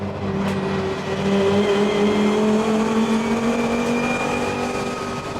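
A 500hp Volvo race car drives on the Bathurst circuit with a loud, sustained engine drone whose pitch climbs steadily under acceleration, heard close from onboard.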